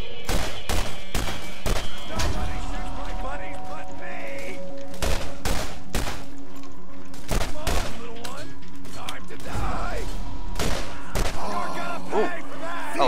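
Gunfire from the video game Borderlands rattles out in loud, rapid bursts and single sharp shots, with short pauses between volleys. A voice is faintly audible in the background.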